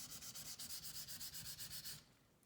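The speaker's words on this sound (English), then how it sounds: "I'm sanding with the grain," A wooden gun stock is wet-sanded along the grain, worked into a muddy slurry, with about fourteen fast, even back-and-forth rubbing strokes close up before the scrubbing stops.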